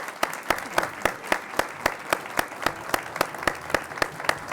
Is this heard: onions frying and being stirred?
no